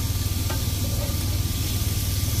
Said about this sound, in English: So I'm going to give it a little stir real quick.